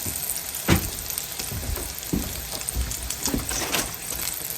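Squirrel meat fries in a pan with a steady, close sizzle broken by scattered pops and crackles. No one speaks.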